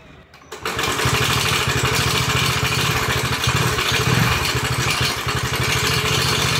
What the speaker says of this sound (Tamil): வண்டி எடுத்த 6 மாசத்துல வண்டியில இருந்து வரக்கூடிய சவுண்டை நீங்களே கேளுங்க.